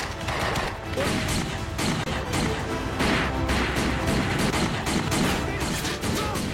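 Gunfire in an action film shootout crackles as dense, repeated sharp bursts over a loud, busy background of crashes and impacts, continuing throughout without a pause.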